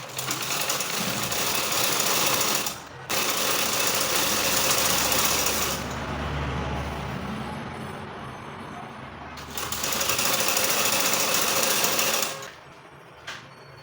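A sewing machine hems the edge of a triangular bubu top, running in long loud steady whirring bursts that stop briefly and then start again, with soft pauses between stitching runs.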